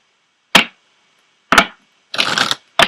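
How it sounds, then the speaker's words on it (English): Tarot oracle cards being drawn from a deck: three sharp papery snaps and one longer shuffling riffle, close and crisp against silence, with no talking. "I am going to go ahead and pull an Ascended Masters card for you"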